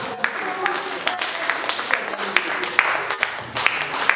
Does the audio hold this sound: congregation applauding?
yes